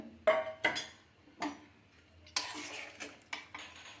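A spoon stirring yogurt into mutton biryani in a pot, a handful of separate metallic scrapes and clinks spaced unevenly against a quiet background, close and fairly soft.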